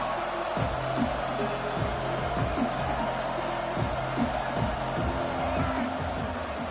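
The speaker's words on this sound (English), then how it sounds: "The crowd electric, trying to help Tech on this 3rd down." Stadium crowd at a college football game roaring steadily through a Texas Tech third down, a dense continuous wall of cheering and noise with some play-by-play talk over it.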